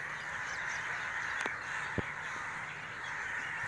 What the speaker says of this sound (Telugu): కొన్ని వేల కాకులు not hundreds thousands maybe 2-3 thousand crores ఉన్నాయేమో